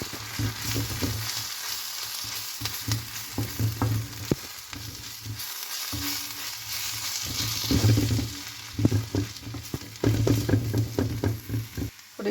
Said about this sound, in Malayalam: നല്ലതായിട്ട് പൊടിയുടെ പച്ചമണം മാറുന്നവരെ ഇളക്കി കൊടുക്കാം.